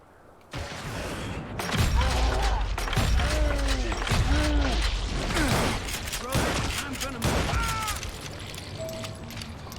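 Rapid Gatling gun fire in the Western shooter Call of Juarez Gunslinger, fired in a hidden tunnel: loud, sustained bursts of shots with heavy thuds and mechanical rattles, running almost continuously with brief gaps.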